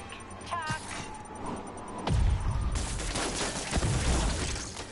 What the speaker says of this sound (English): it just explodes